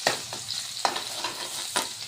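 Onion with ginger-garlic paste fries in a pan with a steady sizzle, while three distinct stirring scrapes land at uneven intervals, close and moderately loud, no one talking.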